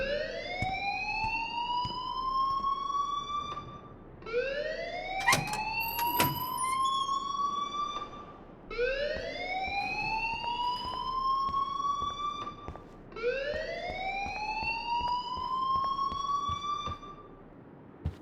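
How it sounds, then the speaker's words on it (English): In the game Life Is Strange Remastered, a school alarm wails in four long rising sweeps, each lasting roughly four seconds and separated by brief gaps. The piercing tone is loud and steady, with faint clatter beneath it. "please turn off that alarm since that's your job"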